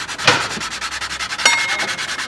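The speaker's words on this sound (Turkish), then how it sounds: "Yüzeyimizi zımparalıyoruz." Abrasive sanding across the cracked deck surface of a Renault Clio 2 1.6 engine block, a steady rhythmic rasp of repeated strokes with two sharper scrapes, close and loud with no talk.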